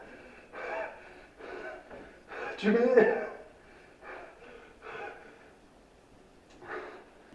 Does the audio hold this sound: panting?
yes